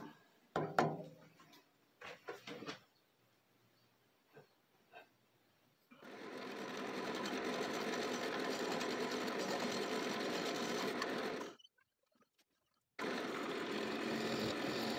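A wood lathe turns a blank of wood limb cast in resin as a carbide round cutter shears it, a steady loud rushing whir lasting about five seconds, then a brief stop before cutting resumes, after a few earlier scattered knocks.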